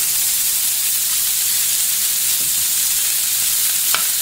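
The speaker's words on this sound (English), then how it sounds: "at some point you can add your onions onto your griddle" Onions sauté on a hot griddle for a patty melt, making a loud, steady sizzle and hiss with a couple of faint utensil scrapes near the end.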